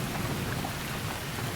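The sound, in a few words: heavy rain at night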